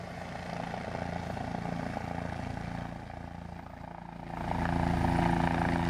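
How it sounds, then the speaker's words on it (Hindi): A helicopter's rotor and engine drone on steadily at moderate distance, the sound thickening and swelling louder near the end, with no voices over it. "हेलीकॉप्टर कैसे धराशायी हो गया वो तस्वीर देखिए"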